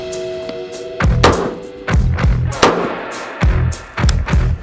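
Several sharp rifle shots from a FightLite SCR ring out close and loud in an uneven string of about six, each with a short echoing tail, and no talk over them.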